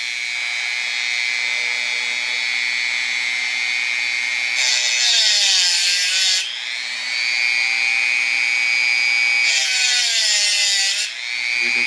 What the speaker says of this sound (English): I'm going to put my hand in here to hold the Dremel steady, and then I'm going to start making my cuts